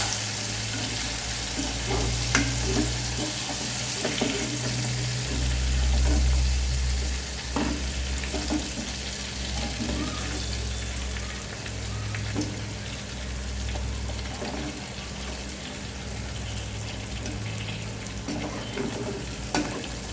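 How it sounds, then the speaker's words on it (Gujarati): Stuffed green chillies fry gently in a pan over a low flame, a steady close sizzle with scattered pops and crackles throughout. "હવે આપણે એમ આને ધીમી ફ્લેમ ઉપર શાકવા દઈશું થોડી વાર"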